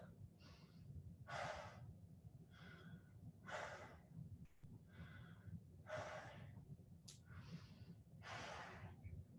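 Deep, slow breaths repeat steadily during a yoga pose, about five inhale-exhale cycles, each a soft airy rush close to the microphone with no talking.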